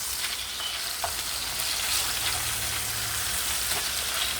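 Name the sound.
burger patties frying and sizzling in a pan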